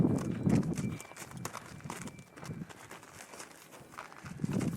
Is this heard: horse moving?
yes